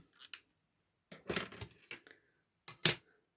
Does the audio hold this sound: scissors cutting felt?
yes